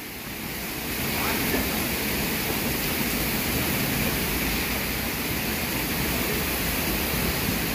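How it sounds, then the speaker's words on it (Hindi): Heavy rain and stormy wind roar as a steady, dense broadband wash, swelling after the first second and holding loud and constant throughout. "इतनी देर से तूफान है।"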